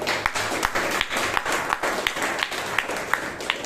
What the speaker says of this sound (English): Let's hear a big applause.